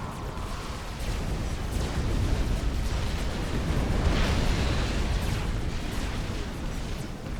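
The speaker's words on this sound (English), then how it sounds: "I see those strats dive to make their bombing run" Strategic bombers dropping bombs in the RTS game Forged Alliance, a long rolling barrage of low booms and crackling blasts that swells and stays loud throughout, with no voices.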